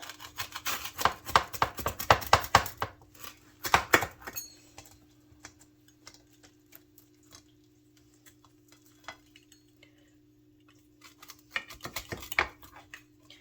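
A knife cuts through a crispy homemade carnivore pizza, giving close, sharp crackling crunches in bursts at the start, around four seconds and near the end, with quiet gaps and a faint steady hum between them.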